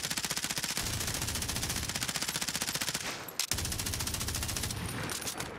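Sustained automatic gunfire from Call of Duty Warzone, a rapid unbroken stream of shots that runs nearly throughout, loud and close, with a brief gap partway before firing resumes.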